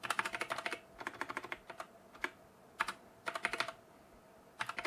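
Computer keyboard typing comes in short clustered bursts of quick, crisp key clicks separated by brief pauses, close and clear with no talking.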